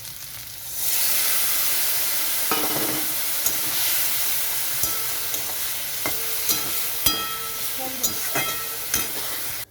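Spices sizzle as they are fried and stirred in a pan with taro stems for a parshe fish curry. A loud steady hiss starts after a moment, and utensil scrapes and taps land every second or so, close up.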